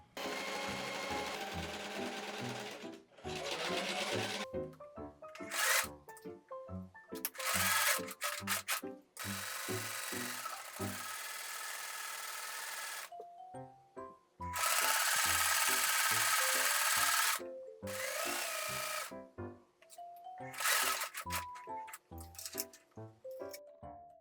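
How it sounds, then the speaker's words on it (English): Sewing machine stitching fabric around the bones of a DIY wearable bat wing skeleton, running in repeated bursts of rapid needle rattle with brief pauses between runs, close and fairly loud. "I finagled it through my sewing machine to sew around the bones."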